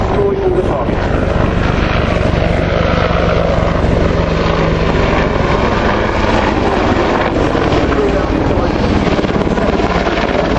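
An Apache helicopter flying at the Fairford airshow, Royal International Air Tattoo, its loud continuous rotor thrum and engine whine roaring steadily with wind buffeting, as an announcer's voice speaks faintly underneath.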